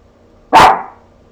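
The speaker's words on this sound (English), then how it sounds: "You don't need to bark at chickens." A dog lets out one loud, sharp bark at chickens indoors, close to the listener, then quiet.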